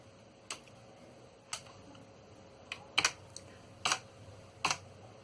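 Computer keyboard typed on slowly, hunt-and-peck style, with scattered single clicks and small bursts of keystrokes, near and quiet against faint room hum, no speech.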